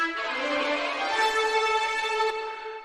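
A string run from the Easy Strings software instrument, violin and orchestra sweeping upward through rich sustained harmonic tones for about three seconds, steady and full, with no talking.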